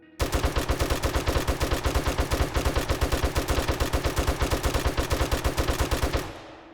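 Rapid automatic gunshots in the video game 7 Days to Die, a steady, evenly spaced stream of loud shots lasting about six seconds before stopping abruptly.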